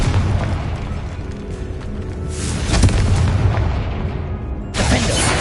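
A Confringo fire spell blasts in Hogwarts Legacy, a dense booming explosion with a rumbling tail, then a second burst near the end, loud against game ambience.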